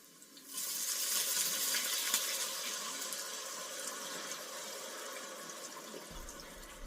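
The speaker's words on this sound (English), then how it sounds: "I'm going to try to carefully add this broth here. I think this is 4 cups of beef broth." Four cups of beef broth pour steadily into a soup pot for meatball soup, a continuous close splashing liquid rush that starts after a brief quiet moment and keeps going to the end.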